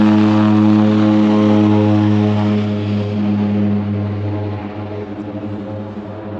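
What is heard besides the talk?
propeller airplane engine at Everest region airport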